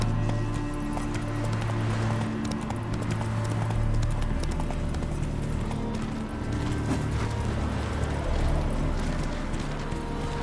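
A horse gallops in The Witcher 3 video game, rapid rhythmic hoofbeats continuing loud and close throughout under game ambience.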